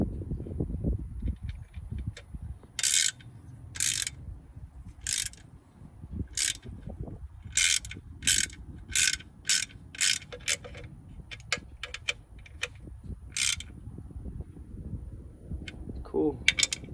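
Ratchet wrench clicking in quick bursts while a bolt is tightened on a Nissan Altima CVT transmission, the sharp ratcheting repeated in short rhythmic runs over low workshop rumble and occasional talk.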